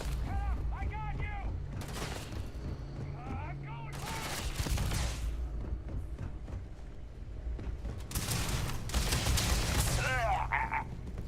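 Grenade blasts and combat noise in the space game Starfield, bursts of dense crackling detonations over a steady low game rumble, with a voice talking in places and tonal effect sounds between.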